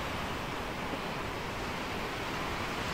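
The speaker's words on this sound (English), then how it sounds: "These are some massive waves, man." Massive ocean waves in the sailing game Sailwind surge around a boat, a continuous, soft roaring wash with wind, steady and enveloping without any talking.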